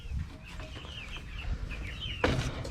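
Rhode Island Red chickens on a small poultry farm cluck softly and repeatedly at a middle distance, with a brief louder rustle near the end and no talking.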